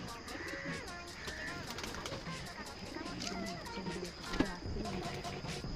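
Low, rolling coos from pigeons at a home pigeon sale continue under a voice, with scattered chirps and a brief knock partway through.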